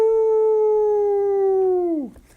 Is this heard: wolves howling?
yes